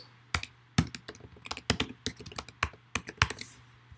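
Rapid typing on a computer keyboard, with sharp, close key taps and clacks in an irregular rhythm over a faint low hum, several strokes per second.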